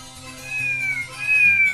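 A cat meows twice in drawn-out, rising-and-falling cries, close and clear, over a low background hum.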